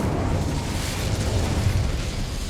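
A fiery Incendio spell goes off in a Harry Potter video game, a steady, dense roaring whoosh of flame that stays loud and continuous throughout with no voices over it.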